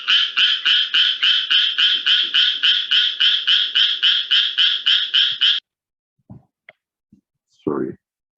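Tree frogs call in tight synchrony, a loud run of evenly spaced croaking pulses lasting about five seconds, then stopping; a few faint clicks and one short croak follow in near silence.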